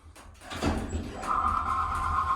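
A 1999 Schindler HT 321A hydraulic elevator door at a Boscov's department store slides shut with a close rumbling roll, then settles into a steady hum as it finishes closing.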